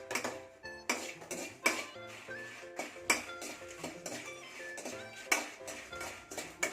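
Idli podi ingredients dry-roasting in a pan, stirred with a utensil that gives repeated sharp scraping clinks and taps at an irregular, fairly quick rhythm, close and moderately loud, with no voices.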